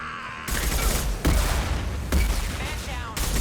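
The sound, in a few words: gunfire and concussive shot in a video game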